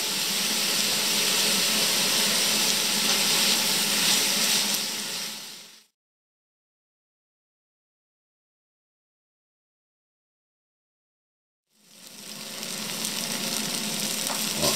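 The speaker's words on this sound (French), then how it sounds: "Le fond de la marmite commence à devenir marron, on gratte avec les oignons." Onions frying and being scraped across the bottom of a soup pot while making traditional French onion soup, a steady close sizzle with scraping that cuts out to silence midway, then resumes.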